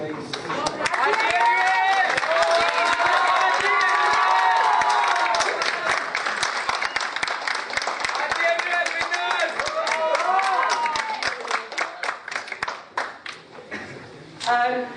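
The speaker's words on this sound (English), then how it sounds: "Let's clap for Arjun, guys." An audience at a ceremony claps and cheers for an honoree, with sustained applause and voices calling out, thinning into scattered individual claps near the end before a brief final swell.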